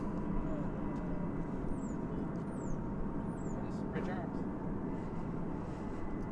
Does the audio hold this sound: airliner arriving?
yes